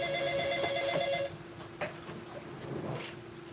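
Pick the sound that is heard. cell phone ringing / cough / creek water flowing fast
cell phone ringing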